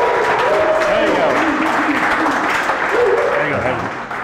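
An event audience applauds and cheers loudly as a startup guest speaker comes on stage, with dense, steady clapping that tapers off near the end and voices calling out through it.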